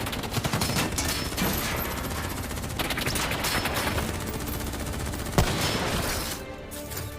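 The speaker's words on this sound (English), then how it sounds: "What the hell? Who's shooting?" Dense automatic gunfire from a 2010 action film, loud rapid bursts of shots with booms packed together over several seconds, a single sharper crack standing out near the end, continuous and close.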